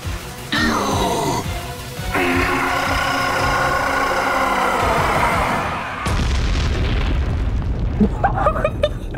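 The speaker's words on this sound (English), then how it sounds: "That explosion." A booming explosion in the video game Shadow Generations sets off a dense roar of layered blasts and sweeping tones, followed by a quick run of crackling pops.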